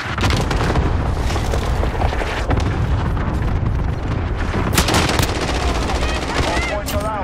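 Modern Warfare 2 multiplayer match with dense, loud machine-gun bursts and booming explosions that continue almost without pause, with game radio voices mixed in.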